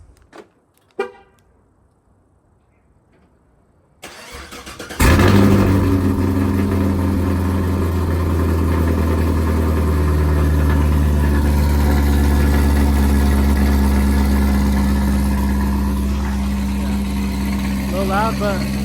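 A Chevrolet Camaro's engine cold-starts after a quiet moment with a brief sound, then roars up close and settles into a loud, steady, deep idle.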